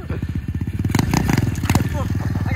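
Coleman mini bike engine revving hard during a wheelie attempt, a close, loud, rapid pulsing putter that surges and holds steady, with voices talking over it.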